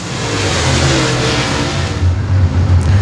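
Open-wheel modified race cars rev loudly at Timberline Speedway, with a dense, continuous engine roar close by and no talk over it.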